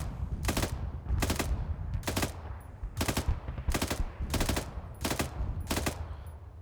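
Eight evenly spaced rifle shots from a bipod-deployed weapon in the video game Arma 3, each a sharp loud crack over a steady low rumble of background noise, with no talk.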